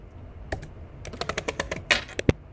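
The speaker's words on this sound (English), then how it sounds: "let me type in a question and use my asterisk" Typing on a computer keyboard at a Python shell: a short quiet pause, then a quick run of about a dozen crisp, close key clicks, ending with a couple of heavier presses.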